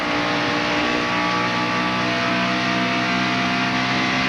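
Stock cars of the 1997 NASCAR Winston Cup PRIMESTAR 500 at Atlanta Motor Speedway roar at full throttle, a loud, continuous engine drone with steady harmonic whine and no break.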